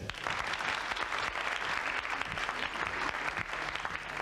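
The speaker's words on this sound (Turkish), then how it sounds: "Alkış." Studio audience applause on a Turkish children's TV show, a dense steady wash of many hands clapping at even loudness throughout, with no voices over it.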